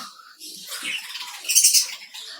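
Budgerigars in a breeding colony chirp and squawk in quick, busy bursts, close by, with a brief rustle of movement among the calls.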